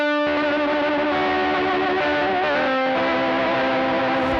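Electric guitar played through a Void fuzz and delay pedal rings out as one loud, sustained distorted chord, its tone wobbling with a pronounced warbly modulation and echoing repeats.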